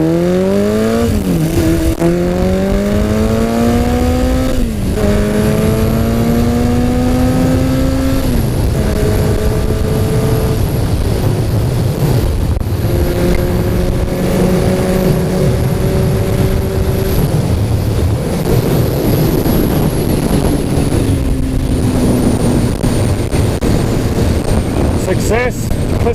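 Yamaha XS1100 cafe racer motorcycle engine revving hard in first gear, rising in pitch through repeated throttle pulls with wind rush, loud and close, talk heard over it.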